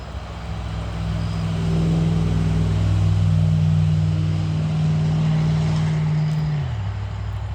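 Cars passing on a road near someone sitting outdoors, a steady low engine and tyre rumble that holds for several seconds and then drops in pitch as the vehicles move away.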